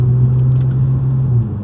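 A Toyota Camry TRD engine heard close up as a loud, steady low rumble with an even drone, easing slightly near the end.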